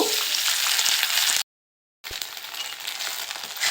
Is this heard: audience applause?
no